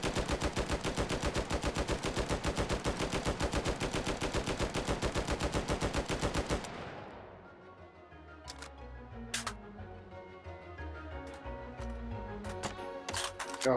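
The G11 prototype rifle fires in VR in Hot Dogs, Horseshoes & Hand Grenades: a fast, evenly spaced automatic stream of loud shots runs for over six seconds, then cuts off into quieter mechanical handling clicks and clacks.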